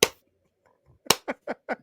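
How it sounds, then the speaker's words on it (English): A slow clap delivered in a Steelers talk podcast: one sharp clap, a pause, then four evenly spaced claps in quick succession, close and isolated against silence. "Slow clap."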